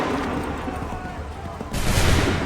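Musket volley in the Assassin's Creed 3 video game: steady battlefield rumble breaks into a loud, sustained burst of massed gunfire near the end, with voices shouting commands through the scene.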